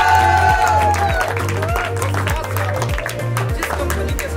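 Crowd applause and some cheering ring out over loud, steadily thumping music with a strong beat.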